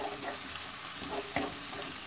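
Garlic, coriander, harissa, spices and butter fry in a pan with a steady close sizzle, and faint stirring scrapes sound now and then.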